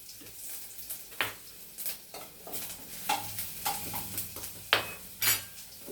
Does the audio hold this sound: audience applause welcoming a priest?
no